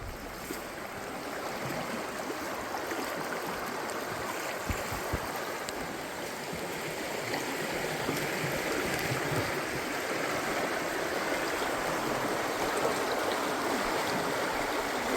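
River water rushing steadily over a shallow ford in the taiga, a continuous broadband flowing wash with small splashes, close and fairly loud throughout, no voices.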